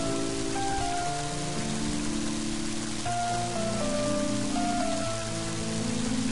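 Rain beginning to fall in the video game Mother 3, a steady hiss of rain on surfaces beneath a looping game music melody, moderately loud and continuous.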